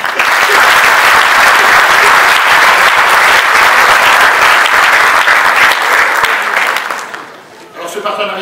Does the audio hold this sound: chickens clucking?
no